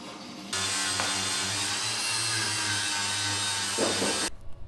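A power tool cuts off part of the compressor cover on a GTB2260 turbo for an Astra H Van Sportive. It makes a loud, steady whining, grinding drone for about four seconds and then stops abruptly.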